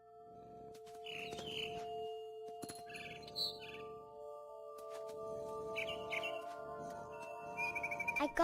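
In the video game What Remains of Edith Finch, a mother bird chirps from a big tree in several short bursts of bright tweets separated by pauses, over a faint steady tonal background.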